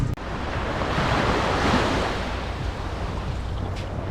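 Ocean surf rolls onto Hollywood Beach, Florida, in a steady, loud wash of breaking waves with some wind buffeting, continuous and close with no voices.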